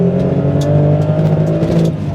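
A naturally aspirated Toyota Supra engine revs loud and close, a steady smooth drone pulling toward high RPM for about two seconds with no voices.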